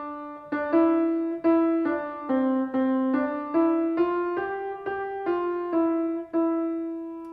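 A piece of music played backwards, its notes swelling up from silence and cutting off sharply in a steady, even rhythm, sounding alone and clear at moderate loudness.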